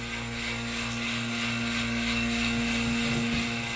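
A vacuum pump runs steadily while pulling full vacuum on a bagged carbon and Kevlar sprint car composite part, giving a continuous mechanical drone with a strong low tonal hum, alone with no talking.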